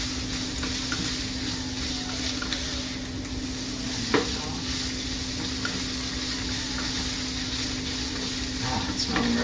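Garlic dumpling filling sizzling in a hot pan while being stirred, a steady dense crackle with a brief scrape of the utensil partway through, close and continuous.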